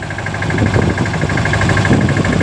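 A tractor engine runs in a chickpea field, a loud, steady, close-up idling rumble with a rhythmic knocking throb throughout and no voices.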